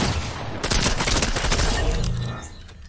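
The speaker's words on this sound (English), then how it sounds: "Sharptooth pump and then Scoped SMG" Fortnite gunfire, with a Sharptooth pump shotgun blast followed by rapid bursts from a Scoped SMG, dense and loud at close range, tailing off into a fading rattle.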